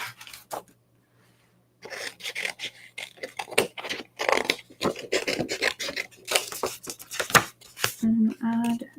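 Scissors snip and rasp through paper while cutting out a rub-on bird design for card making, in close, irregular bursts with a voice talking in between.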